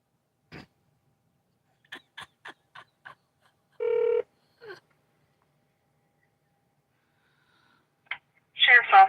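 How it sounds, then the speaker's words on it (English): A played recording of a phone call to a sheriff's office starts with a few scattered touch-tone dialing beeps. A single electronic ring tone follows, then a short pause before a voice begins speaking over the line. "here is the phone call that Andy Bernard made"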